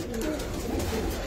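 Kodi pigeons coo in a loft, soft low throaty coos close by over a brief moment.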